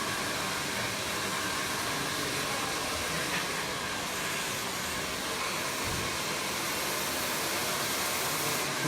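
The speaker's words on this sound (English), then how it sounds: "Now, just drying the hair, you can start to see that amalgamation of texture running through the hair." A hair dryer blows steadily while drying a woman's hair during a short layered haircut, a loud continuous close-up roar with no breaks and almost no talking.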